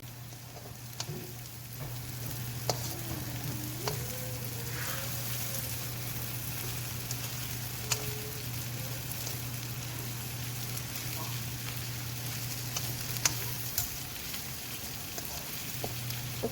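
Water spinach frying in plenty of oil, giving a soft, steady sizzle with occasional faint stirring clicks under a constant low hum.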